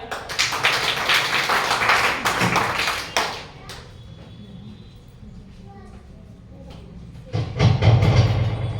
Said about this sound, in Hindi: प्लीज इनके लिए तालियां